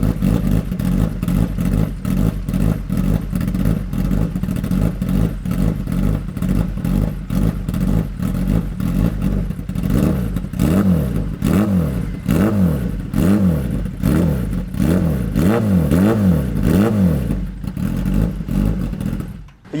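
A Kawasaki ZX-10R motorcycle with an SC Project exhaust and titanium mid pipe revs hard and close, first as a continuous roar, then in a rapid run of sharp, repeated throttle blips.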